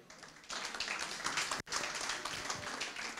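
A crowd at a Lagos broadcasters' end-of-year party claps in a dense, steady round of applause that runs throughout with one brief break in the middle.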